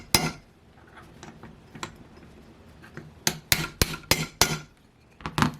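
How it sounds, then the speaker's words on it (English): Metal socket extension tapping a rear bearing into an Enya 45CX model engine, a string of sharp, close metallic knocks, sparse and soft at first, then a rapid run of louder taps near the end. "you can kind of tell when it's fully seated by the sound of that last tap"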